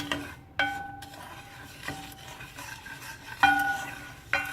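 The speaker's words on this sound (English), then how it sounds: "I'm gonna roast this rava" Rava (semolina) being roasted in a pan, its soft dry stirring scrape broken by several sharp metallic clinks of a spoon against the pan, spaced irregularly and close by.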